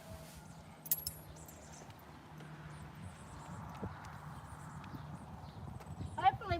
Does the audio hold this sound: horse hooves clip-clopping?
yes